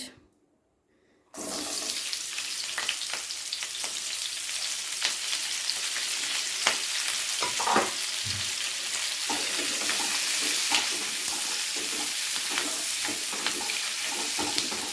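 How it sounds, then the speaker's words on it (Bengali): Onions drop into hot oil in a pan for chilli chicken after a second of near silence, then a loud continuous hissing sizzle carries on, broken by occasional scraping stirs of a spatula. "প্রথমে পেঁয়াজটাকে ভেজে নিতে হবে একটু।"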